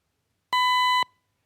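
Synthesized harmonic tone with added aliasing frequency components, a single bright steady beep lasting about half a second that cuts off cleanly with a brief decay into silence.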